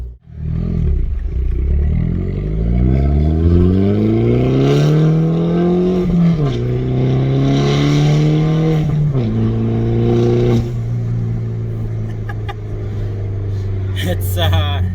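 A 2012 Mini Cooper S engine with an aftermarket downpipe revs and drones loudly, climbing in pitch, easing off, then settling into a deep, throaty rumble with a rough exhaust tone.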